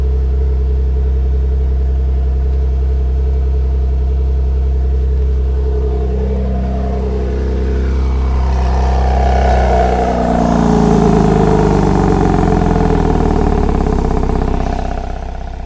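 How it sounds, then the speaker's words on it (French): A 2018 Porsche 911 GTS engine idles after a cold start in eco mode, a loud steady low rumble whose pitch shifts and swells partway through as the revs settle, with no talking. "Donc voilà, démarrage à froid."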